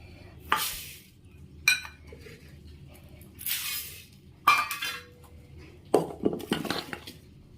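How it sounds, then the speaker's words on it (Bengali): Rice and red lentils being washed in a vessel for khichuri: intermittent swishing bursts with sharp clinks of the pot, close by, with quiet gaps between and no talk. "ধোয়া হয়ে গেছে, এই দেখো চাল ডাল সব ধুয়ে নিয়েছি"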